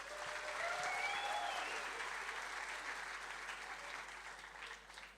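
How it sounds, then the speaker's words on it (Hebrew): Audience applause fills a yeshiva crowning ceremony, a dense steady wash of many hands clapping close by, slowly easing off toward the end, with faint voices mixed underneath. "מגיע לכם מחיאות כפיים"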